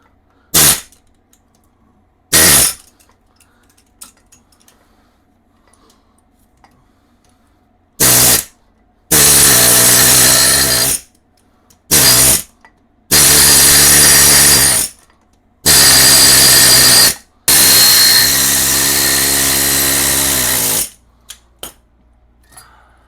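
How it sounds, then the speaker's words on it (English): An air chisel hammers at the steering stem bearing race of a Honda Shadow Sabre 1100 motorcycle, firing in loud separate bursts of rapid chatter with short quiet gaps between them. "I'm going to take me a air chipper. I'm going to try to get it in that notch."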